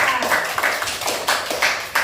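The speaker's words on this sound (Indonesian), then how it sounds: "Tepuk tangan untuk kelompok 3." A group of people claps for a presenting group in a classroom, with uneven bursts of close, moderately loud applause lasting about two seconds.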